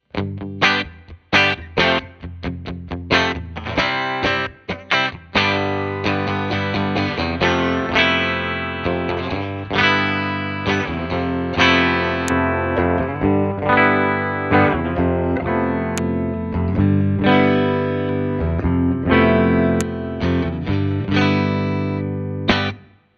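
Distorted Fender Player Series Lead electric guitar playing chords and riffs, switching from full bridge humbucker to split-coil, loud and sustained, with strummed passages and ringing notes shifting tone over about twenty seconds.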